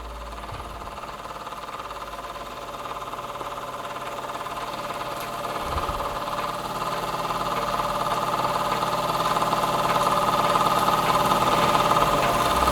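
A small marine model steam engine runs steadily on gas turned right down and very low pressure, producing a continuous mechanical hum and chatter that grows slightly louder over the stretch, with no voices.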